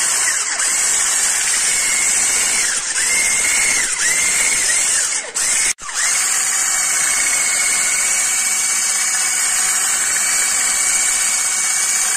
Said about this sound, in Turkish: Mikserimizle karıştırıyoruz.